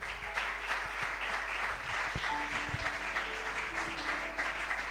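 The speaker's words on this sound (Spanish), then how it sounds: "Dale ese aplauso al Señor." Church congregation clapping during a sermon, a sustained, moderately loud round of applause with faint tones and murmurs mixed in beneath it.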